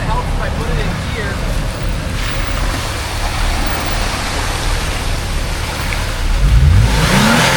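A Jeep Wrangler Rubicon with a Clayton 3.5-inch Overland Plus lift, out on a trail, its engine roaring steadily and loud after being put in gear, swelling into a harder rev near the end with wind-like noise throughout.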